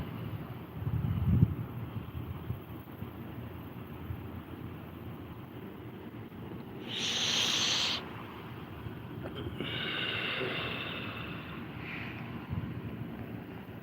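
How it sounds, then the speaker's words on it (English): Texas wind buffets an outdoor microphone, making low rumbling gusts throughout with louder bursts in the middle and toward the end, no speech. "The Texas wind is real."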